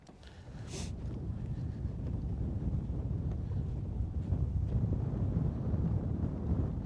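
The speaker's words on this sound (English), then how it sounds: "That wind is cutting straight through here, bro." A southeasterly wind blows across Lake Guntersville, a low, steady roar buffeting the microphone that swells in the first second and then holds.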